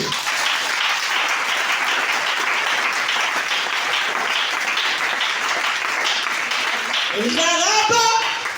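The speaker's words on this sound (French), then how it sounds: "Acclamons pour la gloire de Dieu." Loud, sustained applause from a church congregation at a seminar on the gracious woman, dense steady clapping filling the room for several seconds before a voice rises over it near the end.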